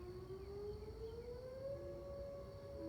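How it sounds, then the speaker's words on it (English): Civil defense sirens sounding a tornado warning, a steady wailing tone that slowly rises in pitch, heard from some distance over constant low background rumble, with no talking. "All right, so the sirens are going off"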